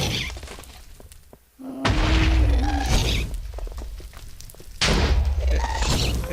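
Ghast fireballs in Minecraft's Nether, fired at the player in a series of loud booming blasts with crackling impacts, two big hits a few seconds apart over steady game ambience.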